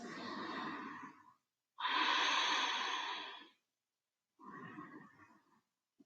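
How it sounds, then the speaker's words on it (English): Slow breaths in and out through the nose during a yoga stretch flow, three long airy exhalations and inhalations separated by silent pauses, close and soft. "Keep breathing in and out through the nose."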